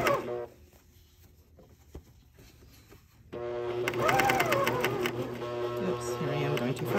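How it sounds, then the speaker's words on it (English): A coverstitch sewing machine stitches a knit neckband. A few seconds of near-quiet with faint clicks give way to the machine whirring loudly and steadily until the end. "My cover stitch sometimes skips stitches if I go too fast over uneven bits."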